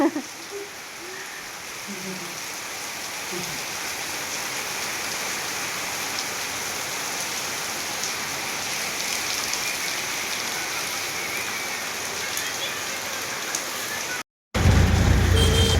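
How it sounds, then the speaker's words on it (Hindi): Dense, steady downpour of heavy rain hissing across the whole clip in a village, with faint voices underneath and a brief dropout near the end. "बारिश देखो कितनी तेज हो रही है, झमाझम बारिश।"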